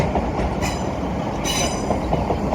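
A Class 150 diesel train rumbles through Manchester Piccadilly station close by, with steady rolling wheel noise and brief high squeals from the wheels on the rails.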